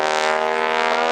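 Old biplane at an air show with a big propeller spun near 2,400 RPM at full throttle during stunts, giving a loud, steady, harmonic roar that fills the moment.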